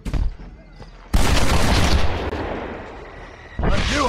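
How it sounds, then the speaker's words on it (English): Gunfire in the western video game Red Dead Redemption: a loud burst of shots with a booming tail after a quieter stretch, then another sharp report near the end. "I knew I could shoot."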